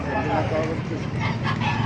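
Roosters crow and chickens clucking in a busy, noisy gamefowl area in Baliuag, Philippines, with a person talking over the birds throughout.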